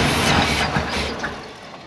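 A 350 V8 with throttle body injection idles and revs in a squarebody Chevy dually truck, a dense low rumble that swells briefly and then settles, heard up close with no one talking.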